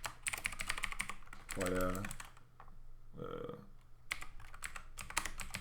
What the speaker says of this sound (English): On the keyboard then, I just pressed insert by mistake.